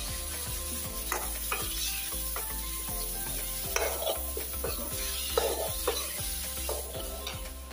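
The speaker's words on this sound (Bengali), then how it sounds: "একদম মশলা দিয়ে দিচ্ছি, শসা দিয়ে নিচ্ছি, শসা দিয়ে রান্না করছি।" Tangra fish cook with spices and cucumber in a pan, a steady sizzle under repeated stirring scrapes and clinks of a utensil against the pan.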